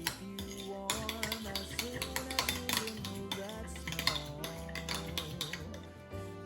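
Ketchup and mayonnaise are stirred into Marie Rose sauce in a bowl, giving a run of close clinks and scrapes of a utensil against the bowl in an irregular rhythm with no talking.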